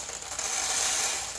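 Popcorn kernels poured into a popcorn maker, a steady rattling rush of small hard grains lasting about a second and a half, close and continuous.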